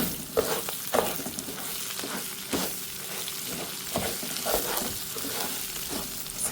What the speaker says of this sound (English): Now I'm going to add our rice to it and toast it for a while.